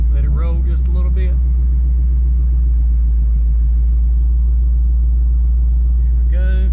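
A 1000HP 2019 Mustang idles in drive with a steady, loud low rumble, rolling slowly with the engine note held throughout and a brief voice near the start.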